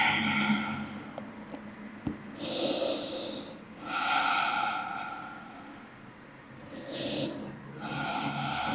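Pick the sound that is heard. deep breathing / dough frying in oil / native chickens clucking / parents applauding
deep breathing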